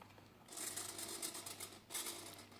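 Small RC servos driven by a servo tester whir in short bursts, a faint, thin motorised buzz starting and stopping a couple of times against a low steady hum.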